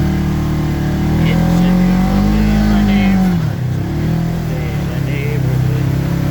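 A Polaris RZR 900S side-by-side with new Hunterworks secondary rollers and an HW-92G belt revs loud and close on a ride, engine pitch rising and falling under wind noise and a voice.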